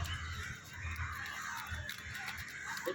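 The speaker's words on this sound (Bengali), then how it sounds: "কাকটা এলো চলে গেল" A crow caws outdoors a few times, fairly faint and at some distance, over a soft background of ambient noise.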